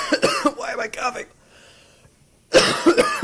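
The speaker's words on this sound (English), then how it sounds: "Why am I coughing?" A person coughs and rasps in a burst of throaty sounds, then a short pause, then another loud round of coughing, all close and prominent.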